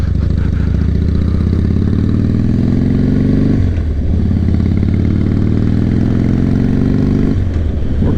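Harley-Davidson Nightrain motorcycle engine, freshly fitted with a new fuel pump and regulator, running with a deep steady rumble, revving up twice and settling back, loud and close.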